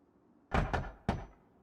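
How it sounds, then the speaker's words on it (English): Wooden door being knocked loose during dismantling in a base-building game, giving three quick hollow thunks, two close together then one after a short pause, fairly faint and with no talk. "We might just dismantle the doors since I've already dismantled this entire building."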